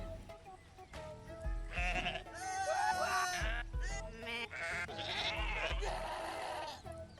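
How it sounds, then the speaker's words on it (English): Several loud, drawn-out goat bleats and screams from freeDive, a video game, repeating in bursts over a steady backdrop with faint talk. "Yes, they've got the screaming goat."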